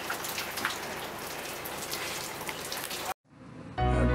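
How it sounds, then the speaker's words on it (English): Steady, dense rain pours down for about three seconds, then cuts out abruptly, followed by a brief quieter stretch and a louder low rumble near the end. "this is what you do when it's raining"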